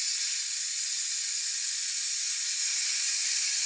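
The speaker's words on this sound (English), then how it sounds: "you're going to do that until the steam stops" A Power Pressure Cooker XL vents steam in a loud, continuous, even hiss that holds steady close by for the whole stretch, with no voices over it.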